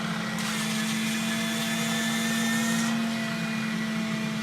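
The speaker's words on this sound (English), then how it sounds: "You just quite simply lower the squeegee and the suction comes on. We can show it sucking up and drying the floor like so." A MotorScrubber FORCE floor scrubber, squeegee lowered, runs its suction motor to dry the floor, giving a steady, loud whine with a constant hum and no talking.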